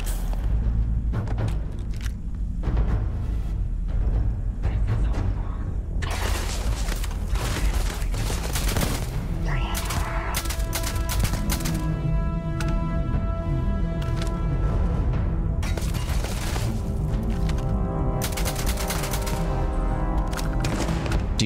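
Sustained gunfire in Starfield rattles almost nonstop, dense bursts of shots and heavy thumps layered over one another at close range for the whole stretch, with no pause in the firefight.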